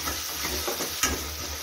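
Millet (bhagar/varai) dosa batter being stirred after rock salt and seasoning go in: a short, steady scraping swirl over a constant soft hiss, with one brighter utensil knock near the end.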